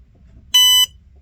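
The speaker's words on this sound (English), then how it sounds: "The beep tells you all systems go." Power-on beep from a Nautinect linear drive autopilot: a single short, loud electronic tone of about a third of a second, steady and pure, standing alone over a faint low hum.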